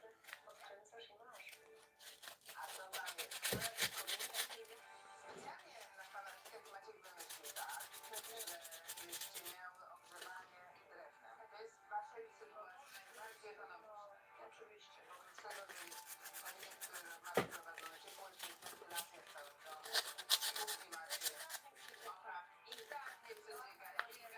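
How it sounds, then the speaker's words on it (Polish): Sandpaper rubs back and forth over a custom model, in bursts of scratchy strokes with short pauses between them. The sound is close but fairly quiet. "I będziemy teraz to szlifować."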